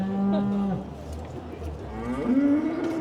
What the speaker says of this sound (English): And 3 cattle forward in this class